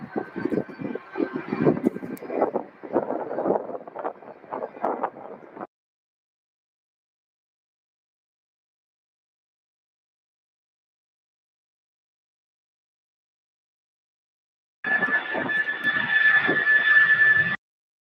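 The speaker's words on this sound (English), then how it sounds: "that flight's going to Oakland" A jet airplane roaring at Louisville SDF airport, loud for about six seconds. A long silence follows, then the engine roar returns with a steady high whine.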